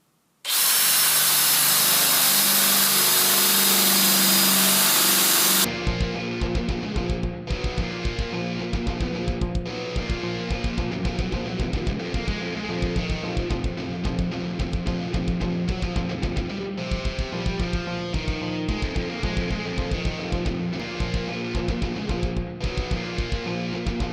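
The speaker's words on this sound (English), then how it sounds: "We're going to drill 2 holes of each and time how they go." A cordless drill whirs steadily and loudly, bites into material under heavy load, then runs in repeated bursts with brief stops between holes.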